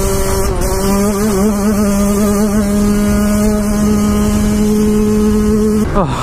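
A two-stroke dirt bike engine held at full throttle, loud and close, with a steady high-revving buzz for about six seconds before it suddenly drops off at the end.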